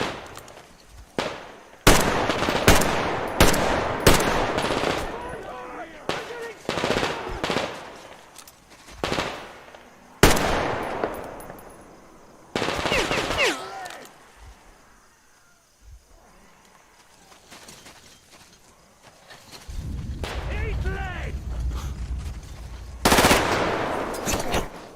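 Gunfire from the video game Metro: Exodus: loud bursts of automatic fire and single sharp shots come in irregular clusters, with quieter stretches and a rumbling passage between them.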